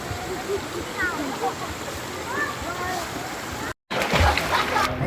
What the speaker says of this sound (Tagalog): nilubog ko nga itong cellphone ko sa tubig para makita nyo kung gaano kalinaw yung tubig dito sa Mananom Spring